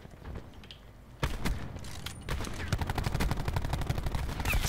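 Gunfire in Black Ops 4 during a team deathmatch on the Seaside map: a burst of rapid automatic shots that builds into sustained fire, with a faint voice underneath.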